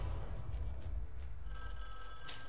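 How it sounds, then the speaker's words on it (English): A telephone rings in the Fortnite video game during a live event, a faint, steady ring with repeating pulses and no talk over it. "Why is their phone ringing?"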